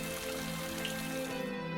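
Steady hiss of a heavy rain downpour, continuous and fairly even for a couple of seconds, with no voices.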